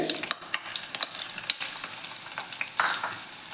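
Green chillies and crushed ginger fry in oil in a pan, a thin steady sizzle broken by sharp pops and spatters, with a few light stirring clicks, close and fairly quiet.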